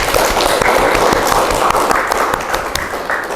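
A classroom full of students applauds together after a group presentation, a dense, steady patter of clapping that thins slightly toward the end.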